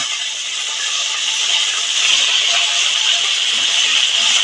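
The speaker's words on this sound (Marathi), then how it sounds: "आता हे गरे मी या भाजीवर फोडणी टाकणार आहे" A loud, steady hiss of hot oil with dry red chilies poured as tempering over a Konkan-style boiled jackfruit vegetable, the sizzle broad and continuous and swelling slightly midway, with no voices.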